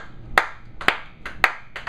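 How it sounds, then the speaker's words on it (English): A handful of feeble, sparse hand claps, four or five isolated smacks spaced about half a second apart, close by and quiet in a small room. "the weakest clap"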